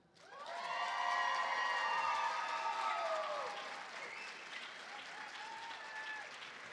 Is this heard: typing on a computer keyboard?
no